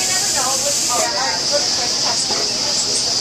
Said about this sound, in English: Now this thing will swing around and it'll rinse off.